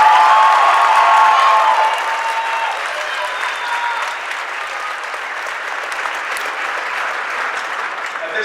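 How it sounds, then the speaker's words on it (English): An audience at a college athletics awards ceremony breaks into sustained applause, a dense wash of clapping hands that holds strong for a couple of seconds and then continues slightly softer, with faint crowd voices mixed in. "Let's give these athletes a big applause for their outstanding accomplishments"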